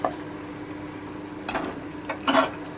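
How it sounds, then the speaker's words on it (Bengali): Paneer cubes frying gently in hot oil, a soft steady sizzle with a few brief louder crackling bursts near the end. "এভাবে আমি পুরো পনিরটাই ভেজে নেব"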